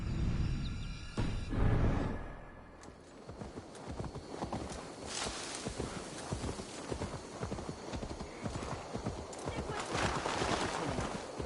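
Horse hooves clip-clop in a steady rhythm during riding in Assassin's Creed Valhalla, close and clear, with a voice speaking over the hoofbeats.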